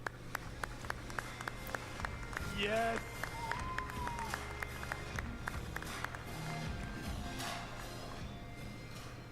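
An audience at the EA E3 2018 press conference cheers and applauds for a competitive RTS player, a steady wash of claps and crowd noise with a voice talking over it.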